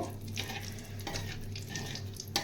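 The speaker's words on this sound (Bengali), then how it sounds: "সুন্দর গন্ধ ছাড়া পর্যন্ত আমি এটাকে নেড়ে যাব।" Bay leaves frying in hot oil in a pan while being stirred, giving a steady close sizzle with soft scraping strokes and a low hum underneath.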